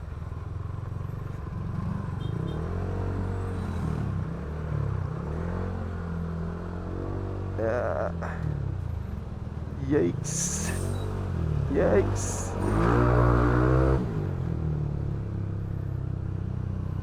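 Road traffic of motorcycles and cars passes in a stream, with engines revving and rumbling as vehicles go by nearby, while people talk over the noise throughout.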